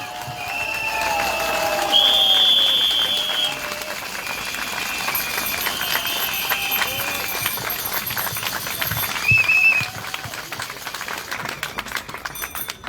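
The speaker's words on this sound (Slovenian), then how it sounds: "En velik aplavz za Svetlano Makarovič." A crowd at an unauthorised outdoor street protest in Ljubljana claps to welcome a speaker, a dense, sustained burst of applause that keeps going for the whole stretch, with shrill whistle-like tones rising above it now and then.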